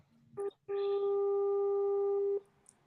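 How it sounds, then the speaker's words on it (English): A telephone ringback tone on a call: a short beep, then one long steady electronic tone lasting almost two seconds, clear and alone over faint background hiss. "It's just ringing."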